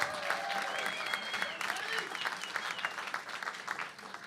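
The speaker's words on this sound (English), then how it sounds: "Let's give a round of applause, yeah." Audience applause at a live community jazz event, quick clapping with some whoops and cheering voices mixed in, fairly quiet and tapering toward the end.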